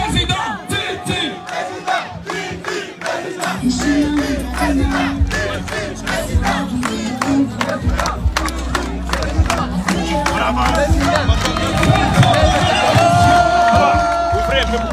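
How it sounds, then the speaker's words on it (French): A large outdoor crowd at a political rally in Daloa cheers and chants for a presidential figure, Tidjane Thiam, with loud shouting and rhythmic claps or beats. The sound grows more intense over about fifteen seconds, with voices mixed in. "on applaudit le président, s'il vous plaît"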